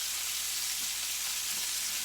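Vegetables sizzle and fry steadily in a hot pan while being stirred, a dense, continuous hiss heard up close with no talk.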